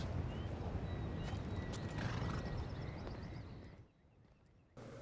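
Horse hooves clip-clop in a quick rhythm in the video game Assassin's Creed Odyssey, with a short neigh, then the sound drops away almost to silence near the end.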